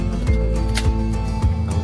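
Crunchy fried pork leg skin (crispy pata) gives several sharp, close crackling crunches, spaced roughly half a second apart, over a low steady background hum.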